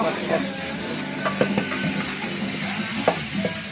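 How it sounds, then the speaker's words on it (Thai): A pepper stir-fry sizzles in a wok with a steady frying hiss, broken by scraping stirs and knocks of the utensil against the pan. Someone talks over the cooking. "ผัดแบบนี้นะครับ"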